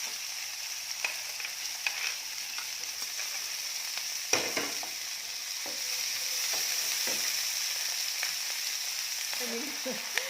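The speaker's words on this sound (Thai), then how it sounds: "กุ้งเล็กก็เอากุ้งไปทอดก่อนได้ค่ะ" Small shrimp fry in a pan of oil with a steady, fairly quiet sizzle, punctuated by occasional clinks and stirring scrapes from a utensil; no one speaks.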